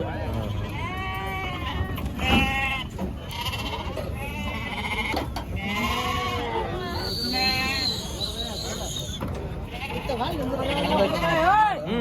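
Sheep and lambs bleat again and again at a busy weekly sheep market, the calls mixed with lively bargaining voices and crowd chatter close by.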